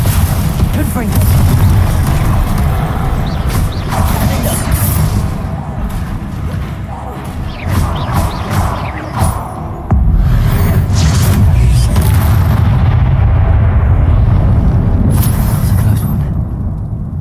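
Spell blasts from the Confringo fire spell in Hogwarts Legacy boom repeatedly as low, rumbling bursts over a busy combat soundscape, with a heavy thud near the midpoint and a voice calling out spell names between impacts.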